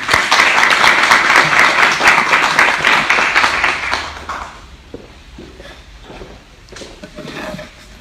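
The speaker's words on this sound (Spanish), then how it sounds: "Le damos un aplauso a nuestro Señor." A congregation at a church Bible study gives a dense burst of applause that lasts about four seconds, then trails off into scattered claps and quiet room noise.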